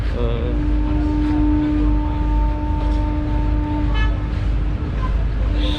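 Ship horn of the KM Gregorius sounds a long, steady, loud tonal blast as it departs Lirung port in Talaud, over low rumbling harbour background.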